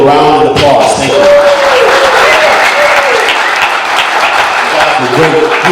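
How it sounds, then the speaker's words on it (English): Loud audience applause for a panel at a Redlands Tea Party Patriots evening meeting, steady dense clapping filling the room throughout, with voices and brief tonal sounds mixed in underneath. "Please give the panel a round of applause."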